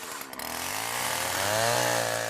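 A chainsaw snarls steadily at high revs, biting into glacier ice with a rough, grinding buzz, close up and continuous.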